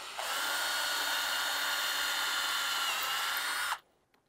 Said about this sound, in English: Then you're going to put your drill in the hole and you're going to drill this out.